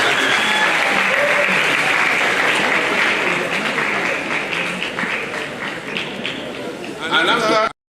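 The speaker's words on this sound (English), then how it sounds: "The other members of the faculty should give a round of applause for their representation" A large hall of students at a university matriculation ceremony breaks into sustained, dense applause, loud and steady before easing slightly and swelling again at the end.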